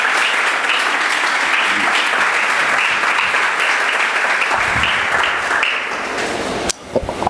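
Loud, sustained applause from a church conference audience fills the space for several seconds, a dense wash of clapping that thins and breaks up near the end.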